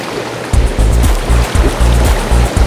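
Pool water jets churning, a loud, close rushing and bubbling with deep rhythmic pulses of water against the microphone, heard alone with no talking.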